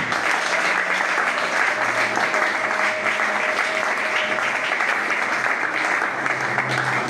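A church congregation applauds in praise of the Lord, with dense, steady clapping from many hands that fills the room without a break.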